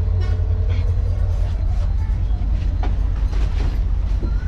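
A passenger train in Sri Lanka near Nuwara Eliya rumbles along its rails in a steady, loud low roar with faint rhythmic clatter, heard close from on board.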